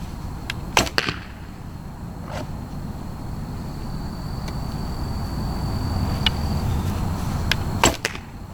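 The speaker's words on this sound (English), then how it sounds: "all you're hearing now is the smack of the arrow down that burlap target." Arrows shot from an Omega Royal Huntsman longbow smack into a burlap target, giving a few sharp, close thuds spaced seconds apart, with steady outdoor background noise between impacts.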